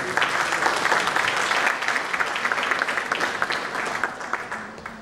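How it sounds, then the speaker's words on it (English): An audience at a business marketing talk gives a sustained round of applause, dense clapping that holds steady and then tapers slightly toward the end. "huge round of applause"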